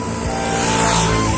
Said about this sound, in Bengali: গাড়ি আসছে